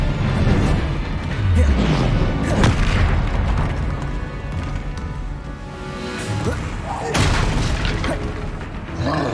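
Spell blasts and crashing impacts from Hogwarts Legacy, a run of loud booms and whooshes layered over a dense, busy game soundscape with music, repeating every few seconds.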